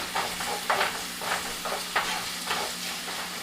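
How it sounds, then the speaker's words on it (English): Garlic and ground beef for Puerto Rican picadillo are stirred in a pan, giving a steady sizzle broken by repeated scraping strokes about every half second, close and fairly loud, with no talking. "Give it a nice stir."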